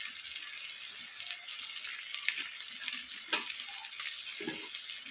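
Spices such as chilli powder, coriander powder and biryani masala fry with cooked prawns for a prawn pulao, giving a bright, steady sizzle close by with occasional stirring scrapes.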